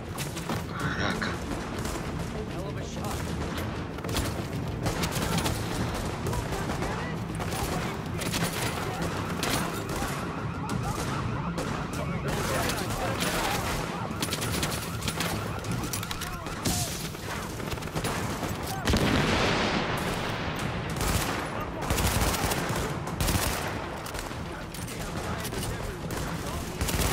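Rapid bursts of gunfire in the video game The Division beta crackle almost continuously over a busy mix of effects, with a voice talking now and then.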